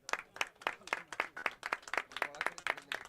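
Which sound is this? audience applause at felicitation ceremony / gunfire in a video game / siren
audience applause at felicitation ceremony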